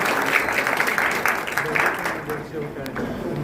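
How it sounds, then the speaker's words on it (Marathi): Applause from an audience at a Marathi civic ceremony in Satara, a steady dense clatter of many hands held for about three seconds before easing off, with a voice over it near the end. "जोरदार टाळ्या झाल्या पाहिजेत"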